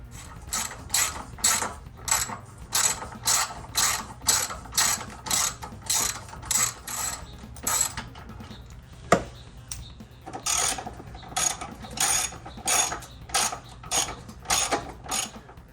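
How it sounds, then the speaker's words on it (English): A ratchet removes bolts on a Dodge Grand Caravan during a Curt towing hitch install, with rapid rhythmic clicking bursts repeating close by, one sharp knock partway through, and no talking. "Next, we're going to go ahead and remove all three of those bolts."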